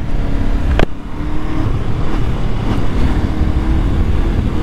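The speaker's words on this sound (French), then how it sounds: "ce moteur 500 de Honda, moi j'apprécie beaucoup" Honda CL500 roadster motorcycle with its 500 cc twin engine, a loud, close, steady engine drone with a sharp click near the start, then continuing at an even level without talk.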